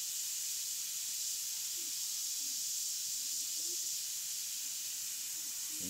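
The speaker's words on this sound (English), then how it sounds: "I'm just going to blend that off by twisting away with my airbrush into a more stippling action here" Steady, close hiss of an airbrush spraying paint with a stippling action while blending a portrait, continuous and even throughout with faint low thumps underneath.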